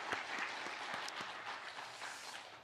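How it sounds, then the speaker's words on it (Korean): A church congregation claps together in a steady, moderately quiet round of applause that fades toward the end, with no voices over it. "우리 다 같이 박수 한번 보내겠습니다"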